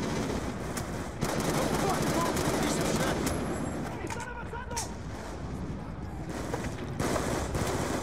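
Heavy gunfire and explosions in Call of Duty Black Ops 2 combat against rocket launchers, a continuous loud barrage with bursts of automatic fire and someone talking over it.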